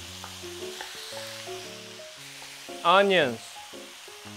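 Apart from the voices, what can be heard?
frying potato, carrot, mushrooms and onions for curry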